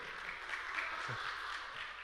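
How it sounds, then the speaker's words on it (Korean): Audience at a campus worship gathering applauding, a soft, steady patter of clapping that sounds fairly distant and holds at an even level throughout. "제가 박수를 받다니"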